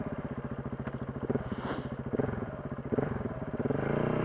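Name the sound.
motorcycle approaching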